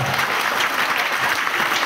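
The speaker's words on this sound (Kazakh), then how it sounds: "шапалақ қошеметтеріңіз, құрметті достар" Wedding guests clapping warmly for a young man in a red tie and grey suit, a full, even roar of many hands that stays constant and close without pauses.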